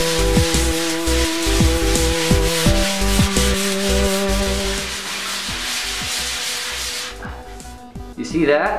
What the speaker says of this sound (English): When you're sanding, sand in circles and make sure to change arms so that one doesn't get overly tired.